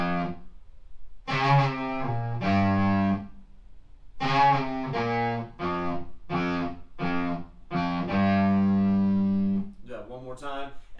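Distorted electric guitar plays a riff, a run of punchy, fuzzy single notes in a choppy rhythm ending on a long sustained note, loud and alone.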